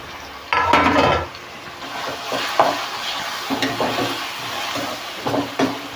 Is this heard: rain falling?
no